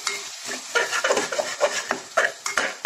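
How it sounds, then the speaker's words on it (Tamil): A spoon scrapes and knocks around a pot as yogurt is stirred into Dindigul-style chicken biryani masala, with irregular close clinks and wet mixing sounds over a light sizzle. "தயிர் சேர்த்துட்டு நல்லா கலந்து விட்டுருங்க"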